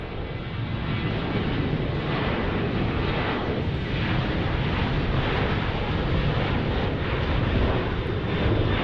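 A jet airliner at Dallas Love Field, home of Southwest Airlines, roars loudly and continuously throughout, a dense, powerful engine rumble with no voices over it.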